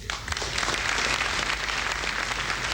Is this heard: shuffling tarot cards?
no